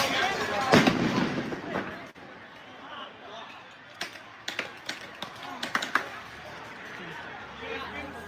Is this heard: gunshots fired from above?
yes